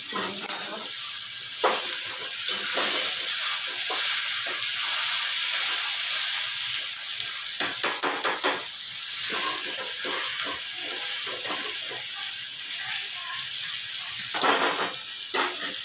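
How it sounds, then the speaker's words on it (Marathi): Sliced bitter gourd and onion fry together in oil in a pan, giving a continuous hissing sizzle broken by repeated clattering bursts as the pan is stirred. "कांदा एकदम टाकून द्यायचे, दोघं पण एकत्र चांगले तळले जातात, चांगले तळू द्यायचे"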